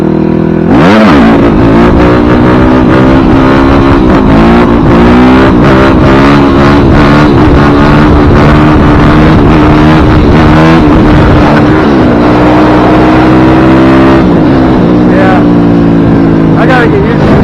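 A 2006 Yamaha WR250F dirt bike engine revs loudly and continuously while riding, with repeated throttle blips and rising, falling pitch, close and dominant throughout the whole stretch.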